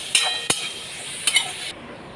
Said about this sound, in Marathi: तर आपला टोमॅटो आता तिथे वाफेवर शिजतोय।